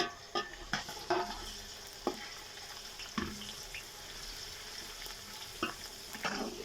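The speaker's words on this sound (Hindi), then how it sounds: "बहुत गर्म हो चुका है तो अब इसमें लहसुन और अदरक डालेंगे।" Steady sizzling of garlic and ginger frying in very hot ghee, with occasional stirring clinks and scrapes of a utensil against a pan.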